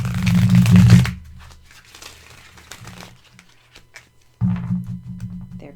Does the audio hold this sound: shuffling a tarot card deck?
yes